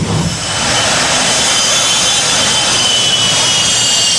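The Tim Chitwood Thunder jet truck roars at full power at the Motordrome Speedway, a loud, sustained broadband jet blast that holds steady and close throughout with no talk.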